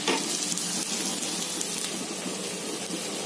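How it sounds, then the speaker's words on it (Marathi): Mixed vegetables frying with chopped onion and green chilli in a pan, a steady, dense sizzle that holds even throughout, close and loud, with no talk. "आता कांदा होत आला, मी आता ना सगळ्या भाज्या घालते।"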